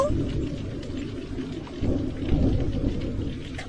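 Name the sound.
thunderstorm with heavy rain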